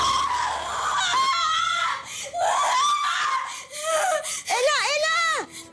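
A girl screams in loud, high-pitched bursts that rise and fall, separated by short pauses, with the last one warbling in a long wail.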